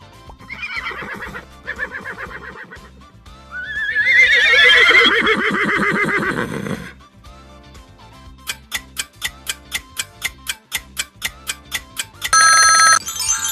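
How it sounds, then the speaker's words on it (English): A horse neighing and whinnying in a loud, quavering call played as an animal sound quiz clip, followed by a rapid regular run of ticking chimes and a bright ringtone-like tone. "That's a horse!"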